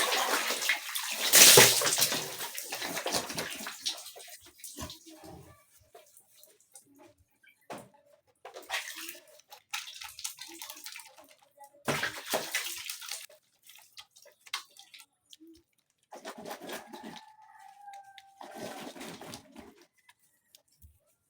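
Water poured and splashed over the body while getting wet during a bath, a loud sloshing burst early on followed by several shorter splashes and drips separated by quiet pauses.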